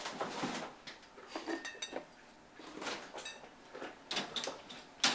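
Drinks being moved into a home kitchen freezer, with faint clinks of bottles or cans, a door sliding and knocking, and several short rattling bumps spaced irregularly, close but quiet.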